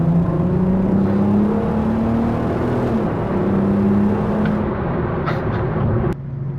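A VW R32 with a Milltek resonator-deleted exhaust drones steadily through a tunnel under hard acceleration, a loud, close engine boom with a gear change midway, cutting off abruptly near the end.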